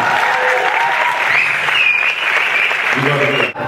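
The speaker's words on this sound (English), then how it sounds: "So big round of applause for you guys." Audience applause at a convention panel with hosts Ty and Rick, a steady dense wash of clapping that holds for several seconds, with some voices and chatter mixed in toward the end.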